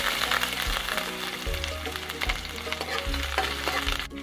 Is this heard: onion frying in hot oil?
yes